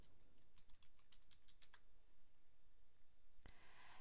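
Quiet, rapid clicking of keys on a computer keyboard as login credentials are typed in short bursts, followed by a louder single click near the end.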